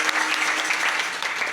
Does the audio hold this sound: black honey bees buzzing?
no